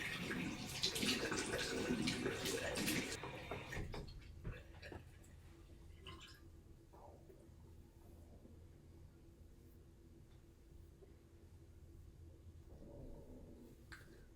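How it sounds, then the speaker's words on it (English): Running water pours loudly for about four seconds as hair is rinsed wet, then the flow stops and only faint drips and small ticks remain in a quiet room. "So I'm going to rinse them just to make them wet again."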